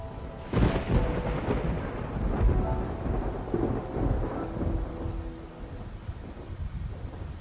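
Rumbling thunder rolls through a heavy storm, with steady rain and gusting wind filling the background throughout.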